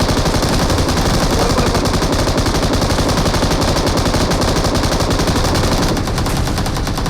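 Continuous rapid gunfire rattles through a BGMI battle on the Erangel map, dense and loud for the whole stretch with a steady machine-gun rhythm. It eases off slightly near the end.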